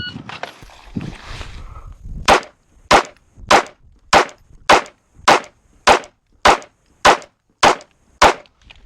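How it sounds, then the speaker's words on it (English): Twelve pistol shots at a shooting range from 7 yards, fired as a timed string: sharp, loud, close reports spaced evenly about half a second apart, preceded by softer handling noise and shuffling. "We have 25 seconds at 7 yards to fire 12 rounds."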